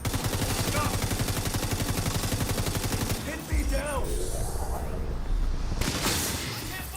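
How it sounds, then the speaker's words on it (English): Video game weapons fire in rapid automatic bursts, a dense rattling stream of shots that briefly pauses and then resumes, with a voice talking over the action. "you're shooting people with your special signature weapon, and then you're shooting them with your normal weapon"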